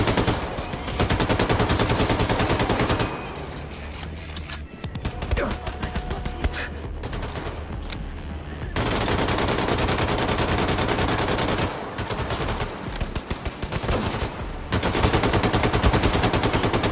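Rapid gunfire from an old video game crackles in long dense bursts, loud and continuous, pausing briefly between volleys before resuming at full intensity.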